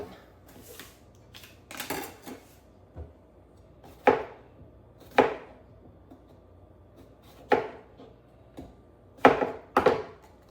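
Knife slicing peppers thinly on a chopping board, giving sharp isolated chops spaced about a second apart, with some louder double strikes and quiet kitchen background between them.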